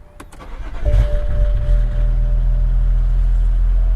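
A BMW E92 335i with the N54 engine running on E85 cranks briefly and fires up, the engine catching and settling into a loud, slightly lumpy idle that holds steady to the end.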